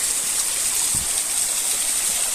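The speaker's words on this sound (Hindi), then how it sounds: "वो ऊपर से पानी आ रहा है, ये नीचे गिर रहा है" Water tumbles from above into a small lake at Khandowa, Kalar Kahar, in Jhelum, Punjab, making a steady, close, continuous rushing roar with no break.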